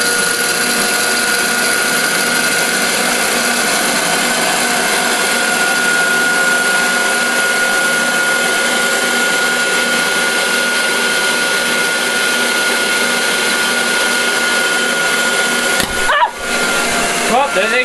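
Prototype electric fluid bed coffee roaster with a two-pound capacity running steadily, a loud, continuous blower roar with a faint high whine throughout, briefly interrupted by a sharp disturbance near the end.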